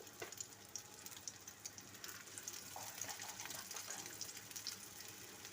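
Chicken chapli kebab patties sizzle in hot oil with a faint, steady crackle and scattered small pops, heard alone and quietly throughout.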